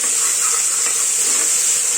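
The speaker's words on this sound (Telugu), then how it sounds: "ఇప్పుడు దీంట్లో కొద్దిగా ఒక 1/2 టేబుల్ స్పూన్ అల్లం, వెల్లుల్లి, కొత్తిమీర 3 కలిపి పేస్ట్ వేస్తున్నాను." Ginger, garlic and coriander paste fries with onions in a hot pan, a loud, steady close-up sizzle with a bright continuous hiss and no talking.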